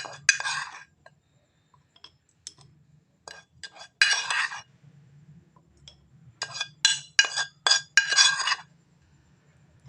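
A spoon clinks against a bowl and glass jar while homemade face mask mixture is scooped in, giving bright, short scraping taps in irregular clusters, close and clear, with a faint low hum between them.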